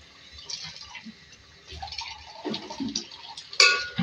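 Yogurt being stirred into beef keema in a pot, with a spoon clinking and scraping against the metal and wet, squelching mixing noises in short irregular bursts, close and fairly quiet.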